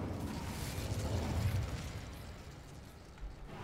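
An Incendio fire spell is cast in Hogwarts Legacy, giving a low, rumbling whoosh of flame that swells early and then fades into a softer crackle over a few seconds.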